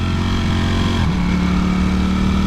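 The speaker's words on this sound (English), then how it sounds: "I can just throw off the throttle and use the engine braking" A motorcycle engine drones loudly, and the pitch drops abruptly as the throttle closes and engine braking takes over, leaving a steady lower hum.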